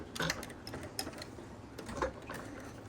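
A sewing machine stitches a flannel shirt in short, quiet mechanical bursts with ticking clicks, faint and close, with no talk.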